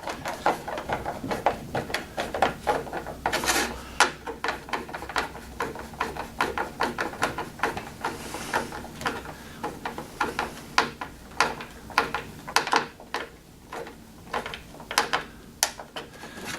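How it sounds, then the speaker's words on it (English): Screws being tightened into the control panel of a Hyundai HYM510SPER self-propelled electric-start roller lawn mower, a close, rapid series of sharp ticking clicks from the screwdriver in steady bursts, with no talking. "now I can fully tighten down the two screws for this side"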